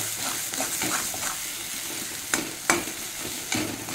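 Food frying in a pan and being stirred until its water cooks off, a steady sizzle broken by a few sharp scraping strokes of the spoon.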